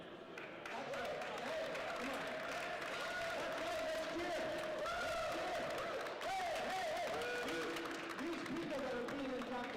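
An audience at a squash Hall of Fame induction ceremony cheers and claps, a steady dense wash of crowd noise with whoops and shouts running throughout, moderately distant.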